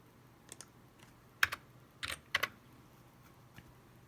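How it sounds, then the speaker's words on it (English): A computer keyboard is typed on nearby in a few short, scattered bursts of sharp key clicks over a quiet room background. "Let me type it up."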